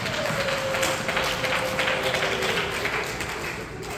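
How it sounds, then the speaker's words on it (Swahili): Applause fills a Pentecostal church gathering, a dense steady patter of many hands clapping close by for several seconds, with a faint voice underneath. "Piga makofi mazuri sana."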